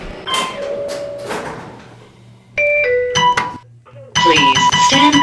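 Lift doors slide shut in an Otis lift centre with a long rumbling glide followed by thunks, while a recorded voice gives an announcement and electronic chimes sound near the end.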